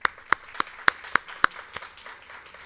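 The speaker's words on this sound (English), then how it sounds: "one big round of applause for him" Sparse applause at the 2018 CUBA infrastructure scholarship competition, about eight distinct sharp claps spaced unevenly, fairly faint as if from a small audience in a large room, then trailing off into quiet.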